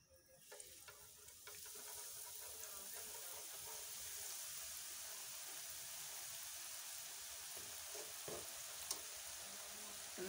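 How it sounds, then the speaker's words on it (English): Onion rings deep frying in a pan of oil, a steady soft hiss and bubbling sizzle that holds for about ten seconds, quiet and continuous with no one talking. "we are going to deep fry them"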